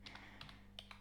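Keys clacking on a computer keyboard during a Python programming tutorial, a few quick separate clicks in two short bursts, faint and close, over a steady low electrical hum with no talking.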